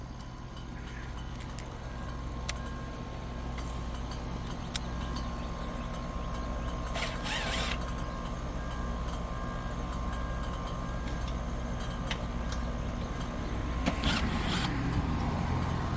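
A residential air conditioner fan running, a steady low hum and drone held evenly throughout, moderately quiet with faint occasional clicks and no voices.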